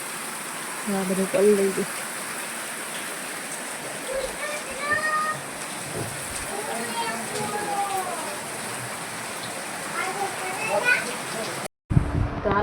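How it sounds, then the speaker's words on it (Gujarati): Heavy rain falling steadily in a village courtyard, a dense continuous hiss with patter on surfaces, while voices talk over it throughout. "બહુ વરસાદ ચાલે છે"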